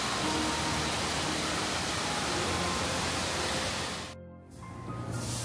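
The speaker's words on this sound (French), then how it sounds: "on a des chutes vraiment sur le côté qui vont jusqu'à la cascade principale" A waterfall cascade near Kawaguchiko by Mount Fuji gives off a steady, dense roar of falling water. The sound cuts out briefly near the end and then resumes.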